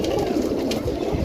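Yakut pigeons coo in a low, continuous, throaty murmur, close and fairly loud, with no talking.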